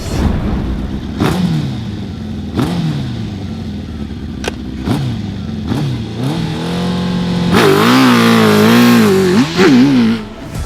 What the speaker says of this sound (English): Today we're finally going to take the world's craziest enduro bike, this 1000cc 150 horsepower beast off-road